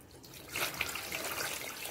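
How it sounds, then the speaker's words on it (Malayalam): Water poured slowly from a cup into a homemade fish tank built from an old luggage box, a soft, steady trickle and splash, faint and close, with no talk. "അപ്പോൾ വെള്ളം അങ്ങനെ പോകും. നമുക്ക് എന്ത് ചെയ്യാം, നമുക്ക് പതുക്കെ ഇങ്ങനെ ഒഴിക്കാം."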